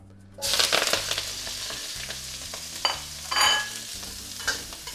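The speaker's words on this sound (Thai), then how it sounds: "อันนี้ผมจะผัดผักเลยนะครับ" Vegetables sizzle and hiss in a hot wok, with repeated scraping and tossing of a metal spatula over a steady low hum.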